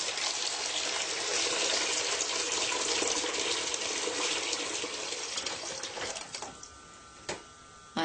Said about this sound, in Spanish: empiezo a lavármelas y después dejo que se vaya el agua usada. Luego pongo más agua en la pila.